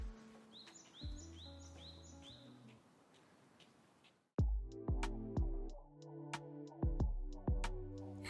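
Birds chirp and tweet in short repeated calls outdoors, followed by a series of sharper, clicky chirps at a moderate distance.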